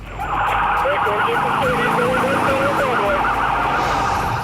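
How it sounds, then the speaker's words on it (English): A loud wailing police car siren sweeps up and down continuously nearby in a police chase video game, with an engine rumbling underneath. "when the lawman activates his siren"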